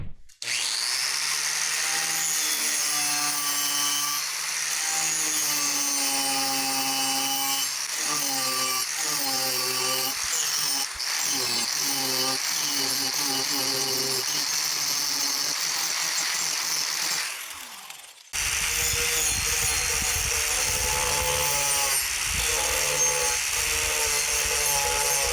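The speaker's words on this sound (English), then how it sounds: "this carving disc removes material real quick" Angle grinder fitted with a carving disc tearing into wood, a loud sustained high whine with shifting pitch as it bites and eases, one brief drop before it roars on, close and continuous.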